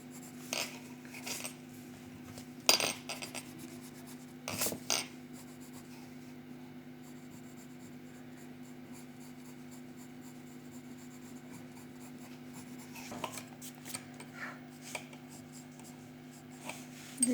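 Light pencil drawing on paper: faint, soft scratches and short strokes in scattered bursts, with occasional small taps over a low steady hum.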